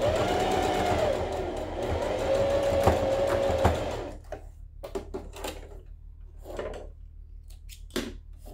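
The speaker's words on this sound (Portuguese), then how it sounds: "já vou passar uma costura prendendo aqui por enquanto só o elástico" Sewing machine stitching elastic onto a two-tone fabric mask, a steady loud mechanical whir for about four seconds that then stops, followed by scattered handling clicks and rustles.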